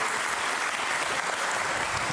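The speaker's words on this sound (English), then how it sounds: "Big round of applause for them." An audience at a DevOpsDays tech conference in Amsterdam clapping, a dense, steady round of applause filling the room throughout.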